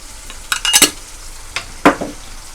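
Spoon stirring ginger garlic paste and turmeric frying in hot oil in a pan, close and sharp, with a few scraping strokes and clinks over a faint sizzle.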